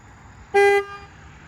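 A single short honk from an aftermarket horn on a 2020 Toyota Supra, loud and close, over faint background hum.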